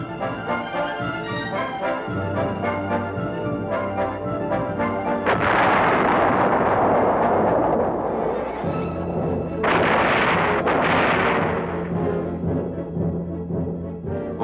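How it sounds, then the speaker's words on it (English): Army tank main guns firing live ammunition on a firing range during armored-division qualification, heavy booming blasts with a loud burst midway and another later, heard over steady music. "crews and their machines are put through 6 courses or tables to practice firing live ammunition from main guns and the tank's machine gun system"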